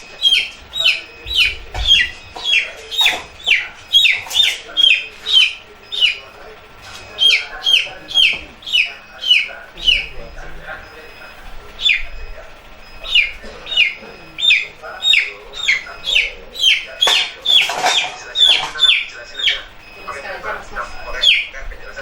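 Broiler chickens give rapid repeated high chirps and clucks, close and loud in a steady pulsing rhythm, while being tied and weighed.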